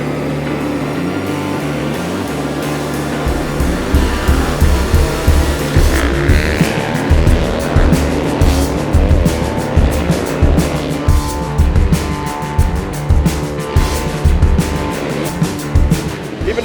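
Race car tearing at high speed along a tight, tree-lined course, the engine roaring loud and close with rapid gear changes and repeated rev surges, no voices over it.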